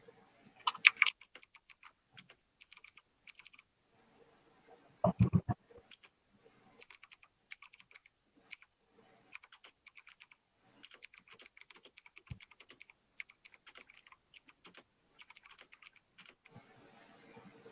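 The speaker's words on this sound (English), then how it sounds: "can I just type the question in the chat box?" Computer keyboard typing during an interview: light, scattered key clicks in irregular bursts throughout, quiet and close, with a louder thump and a cluster of heavier clicks near the start.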